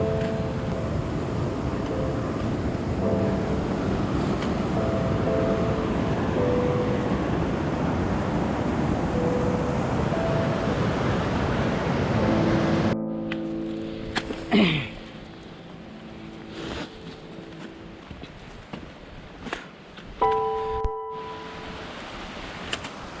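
The Prekchu river rushes and splashes over boulders on its rocky bed along a Himalayan trekking trail: a loud, steady roar of water for about thirteen seconds, then a quieter, thinner flow broken by scattered clatters.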